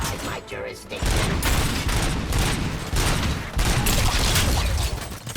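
Heavy gunfire in the video game Robocop: Rogue City, loud bursts of shots and booms in a dense barrage with a short lull near the start.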